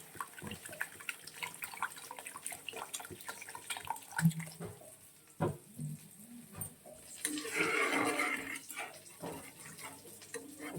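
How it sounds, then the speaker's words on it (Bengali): Water is poured into a pan of cooked-down spices for a fish curry. Scattered kitchen clatter comes first, then a short, fairly loud gush of splashing liquid near the end. "মশলাটা কষানো হয়ে গেছে, এবারে জল দিয়ে দিচ্ছি"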